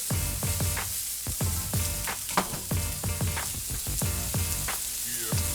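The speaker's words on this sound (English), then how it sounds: "after we saute them" Jerk-seasoned shrimp with pepper and salt sauté in a hot pan, giving a loud, continuous close sizzle with crackling spits throughout.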